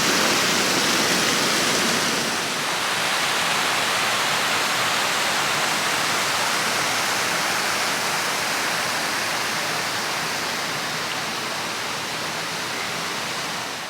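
Waterfall at Snope Burn in the South Tyne valley, a steady broadband roar of falling water that stays loud and continuous throughout, with a slight dip in level early on and no voices.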